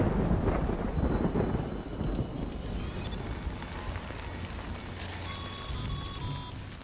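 Thunderstorm rain in the video game Death Stranding, a heavy rumble of thunder that fades into steady rainfall, with scattered bright synthetic tones layered over the rain.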